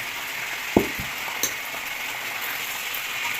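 Steady close sizzling of pork and sausage frying in a hot pan, with a couple of soft knocks from stirring or utensils against the pan.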